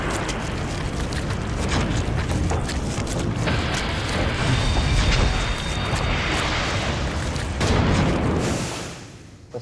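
An explosion sets off a dense, rumbling roar of booming bursts that stays loud for several seconds, then fades out, with no talking.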